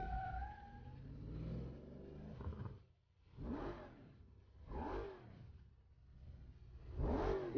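A car engine in the video game Burnout Paradise Remastered revs in repeated swells and drops as the car drives. A brief tonal sound is heard at the start.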